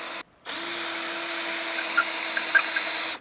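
A power drill boring mounting holes for boat downrigger and rod holder mounts, one steady loud whine held for nearly three seconds after a brief start, with slight bumps as the bit bites.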